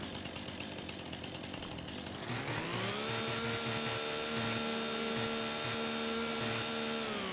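A chainsaw in Farming Simulator on the Riverbend Springs map starts with a rough, noisy rumble, then revs up into a steady, loud, high whine as it cuts, sustained to the end with no voices.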